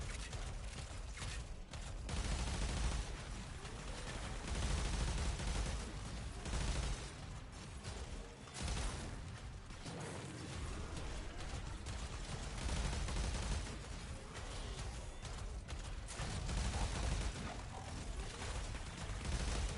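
Game gunfire from Warframe fills the scene as dense, continuous rapid shots and mechanical clatter, loud and sustained for the whole stretch with no voices.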